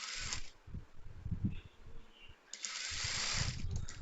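A sewing machine stitching a frock seam, a steady fast mechanical whir with rapid needle chatter that starts and pauses, running close and fairly quiet without talk.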